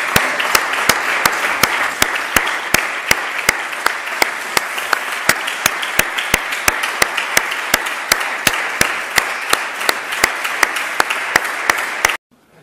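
Sustained unanimous applause in the Canary Islands Parliament, a dense, loud wash of clapping from a large chamber that continues steadily for about twelve seconds before cutting off abruptly.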